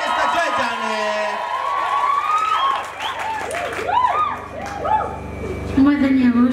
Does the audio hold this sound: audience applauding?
yes